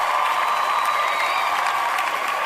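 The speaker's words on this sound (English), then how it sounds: "Let's get a round of applause for you" Continuous applause with some crowd cheering for a radio show, a dense, steady wash of clapping at a moderate level that holds evenly from start to finish.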